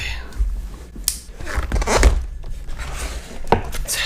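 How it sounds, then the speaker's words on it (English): A knife slicing and tearing through packing tape on a box of newly bought electronics, with a series of sharp irregular cuts and rips close by, a few louder strokes standing out. "I need the knife that cut my finger to cut all this tape off"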